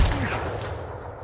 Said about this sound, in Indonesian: John justru menembakkannya kepada Marquis yang sudah berada di depannya